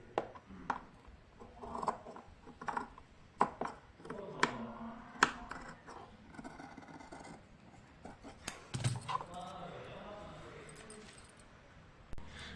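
Scissors cut stitched blouse fabric, crisp snipping clicks and rustling cloth scattered across the stretch, with soft handling noises and faint speech in places.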